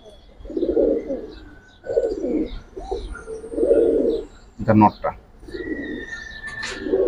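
Giribaz pigeons cooing close by in a loft, a series of low rounded coos in a steady rhythm, with a brief spoken remark and some chirps over them.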